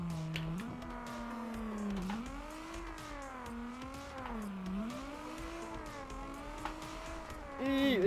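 A car drifts in CarX Drift Racing, its engine note rising and falling in long sweeping waves with sustained tire squeal, a continuous close whine that swells sharply at the very end.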